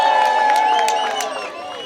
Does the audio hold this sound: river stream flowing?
no